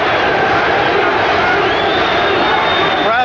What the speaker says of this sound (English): Crowd chanting Pete